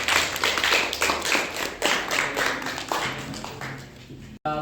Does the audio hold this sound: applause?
yes